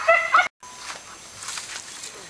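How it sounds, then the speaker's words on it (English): A dog in a backyard vegetable garden gives a couple of sharp, near barks, then softer whimpering yelps follow after a short pause, with faint movement around it. "What's the matter with that dog?"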